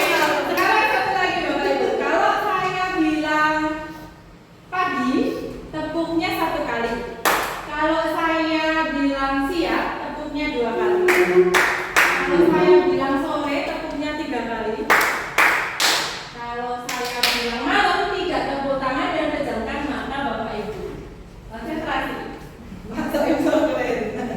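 A group of people claps in short, crisp bursts scattered among close-up talking and sing-song voices, with the claps sharp but brief against the speech.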